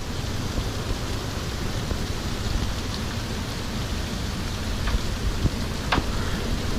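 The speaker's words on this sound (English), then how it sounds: "So it is raining on Fort Lauderdale Beach." Rain falls on Fort Lauderdale Beach in a steady, dense hiss, with a few louder drops striking nearby and no voices.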